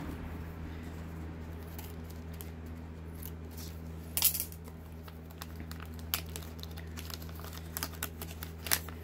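A patch package is cut open with scissors, giving a few soft snips and crinkles, one louder crisp cut near the middle, and scattered small clicks over a steady low background hum.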